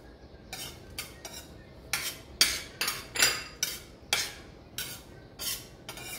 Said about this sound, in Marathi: आणि हो, मेथीचे दाणेही थोडेसे भाजून घेऊया।